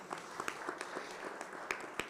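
Faint, distant applause from an audience at a Mexican commemorative panel event, a thin patter of claps with a few louder ones standing out, brief and fairly quiet.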